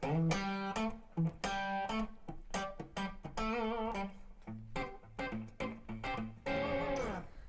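Dry electric guitar played through a Blackstar amp with the reverb switched off, choppy funky chords and single-note stabs with a slightly gritty tone and no reverb tail.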